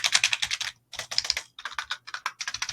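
Quick bursts of keystrokes on a cheap membrane-switch budget keyboard, dense clacking runs separated by brief gaps, close and crisp with no talking.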